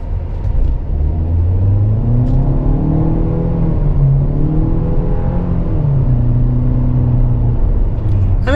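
A 2024 Chevrolet Malibu RS midsize sedan with a 1.5 turbo engine accelerating from a stop, a loud, steady engine drone rising and falling through several gear changes, heard from inside the cabin with no talking.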